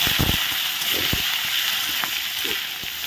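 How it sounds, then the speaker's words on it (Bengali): Onions, tomatoes and whole green chillies fry in a pan with a steady soft sizzle and hiss, with a few faint stirring knocks scattered through. "এগুলো একটু ভেজে নিচ্ছি মাংসের মতো করে"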